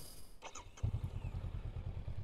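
A Honda CL500 motorcycle engine idles steadily outdoors in the rain, a low even thrum that starts abruptly after a brief clatter and holds close and moderately loud without talk.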